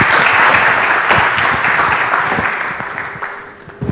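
Audience applause welcoming a university speaker to a lecture, a dense wash of clapping from a seated crowd that gradually thins and fades toward the end.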